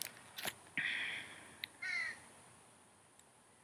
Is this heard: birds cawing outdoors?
yes